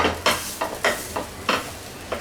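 Chicken pieces for shawarma are broken apart with a spatula in hot oil, with a soft sizzle under a regular run of six scraping strokes, close and fairly loud.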